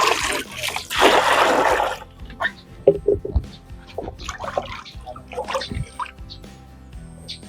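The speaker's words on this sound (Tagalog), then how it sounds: "lalagyan ko ng mainit na tubig" Hot water poured out while cooking, a loud splashing gush for the first couple of seconds, then scattered drips, trickles and clinks as the flow dies away; no voices.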